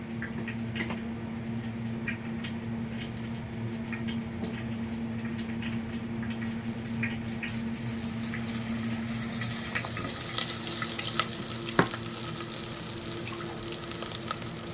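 Ginger, garlic and cumin sizzle steadily in hot oil in a pan, a continuous frying hiss over a low hum, growing brighter midway with occasional clinks.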